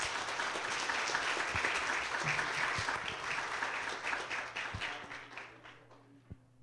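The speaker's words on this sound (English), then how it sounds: "So they deserve an extra applause" Church audience applauds the children after their Christmas program, a dense burst of clapping that gradually thins out and fades to a few scattered claps, with a brief spoken word near the end.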